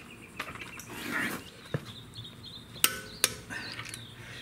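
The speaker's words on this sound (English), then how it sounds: "These should be torqued to 110 foot-pounds. Do it in a star pattern." Torque wrench tightening wheel lug nuts to 110 foot-pounds on a Mercedes GLE 350 (W166), giving a few sharp, quiet clicks spaced apart over a low, faint background.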